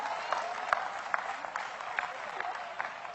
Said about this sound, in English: Oh, come on, clap anyhow.